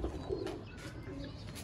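A male Sialkoti pigeon coos in a low, soft, repeated murmur, close by, over a faint background hum.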